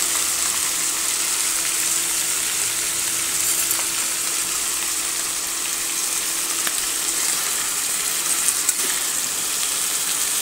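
Vegetables fry in a kadai (wok) over oil tempered with five-spice panch phoron. A steady, close, continuous sizzle runs throughout, with faint stirring clinks and no voices.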